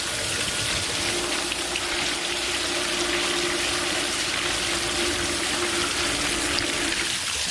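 A pool sand filter pump runs on its rinse setting, water rushing steadily with a constant broadband hiss and a faint mechanical hum underneath, unchanging and fairly loud throughout.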